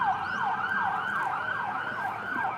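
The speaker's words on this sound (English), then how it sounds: "There you go, that's an ambulance." An ambulance siren wailing as it passes along a street in a Thai town, a loud rising-and-falling electronic whoop repeating about every third of a second, steady and close over faint traffic.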